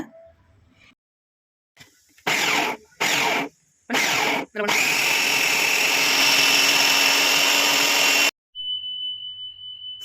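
A mixer grinder churns chicken filling with torn bread slices, loud whirring in a few short pulses, then one long steady grind before cutting off abruptly.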